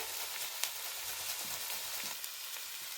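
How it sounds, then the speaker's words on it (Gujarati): Green chilli paste and grated ginger frying in hot oil, a steady close sizzle with faint crackles and a few soft stirring clicks, no talking. "તેલમાં આ રીતના મરચાની પેસ્ટ લીલા મરચાની થોડુંક આદુ પછી ખમણી નાખી દઈશું આપણે"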